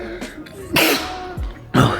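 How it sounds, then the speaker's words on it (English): Sharp, explosive sneezes burst out close up, two loud bursts with a breathy catch between them. "sneezing"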